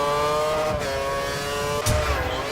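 Formula One race cars, a Red Bull chasing a Force India at the Canadian Grand Prix, scream past with a loud, sustained high-pitched engine whine and a sharp pitch shift as one car passes close by.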